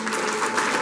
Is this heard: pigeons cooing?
no